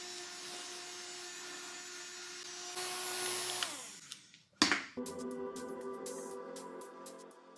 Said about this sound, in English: I got my fan to help me dry this faster